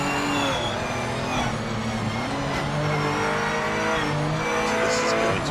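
Damaged race car engine revving hard in Project Motor Racing, loud and continuous with rising and falling pitch through gear changes, brief tire squeal, no talking.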